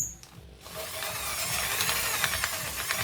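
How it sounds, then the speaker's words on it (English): Ducati 4V cylinder head valves being lapped into their seats, a continuous gritty grinding and scraping that starts after a brief pause and runs on steadily, close and fairly loud. "the next job is to lap those newly ground valves into the seats."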